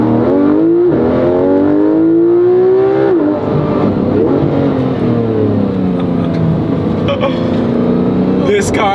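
A Porsche 911 GT3 RS engine revs loudly and continuously, its pitch climbing, dropping and climbing again with sustained harmonic whine, close by, with voices faintly mixed in.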